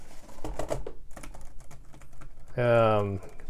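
Keys on a plastic Yekbee backlit Bluetooth keyboard case for an iPad tap in a short, quick burst up close, while someone talks around them.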